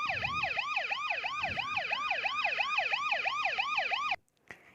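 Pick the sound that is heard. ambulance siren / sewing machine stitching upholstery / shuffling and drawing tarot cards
ambulance siren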